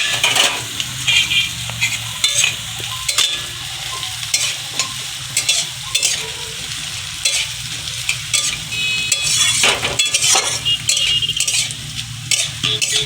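Potato papad frying in a pan at home, a steady loud sizzle crackling throughout with frequent scraping and clinking of a utensil against the pan, no voices.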